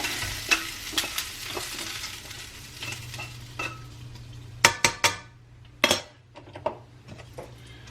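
Browned smoked sausage is tipped into a pot of red beans and stirred, with faint sizzling under scraping spoon strokes and several sharp clinks of utensil against pot, no talking.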